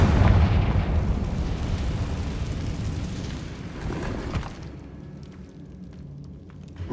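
A Confringo blasting spell explodes in an Xbox Series X video game: a heavy, rumbling blast that roars for several seconds, then fades to a low hum before another burst begins.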